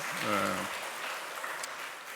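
A church congregation at a Sunday worship service applauds after a hymn, a diffuse clapping wash that follows a brief spoken voice and then fades to a soft, even patter.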